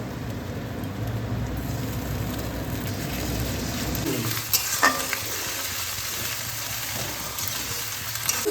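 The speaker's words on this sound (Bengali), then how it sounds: "এবার আমি এখানে যে আদা রসুন কেটে রেখেছি এইটা দিয়ে একটু কষিয়ে নেব" Onion fried with chopped ginger and garlic in a pan gives a loud, continuous hiss that settles partway through, followed by a few scattered clinks and scrapes of stirring.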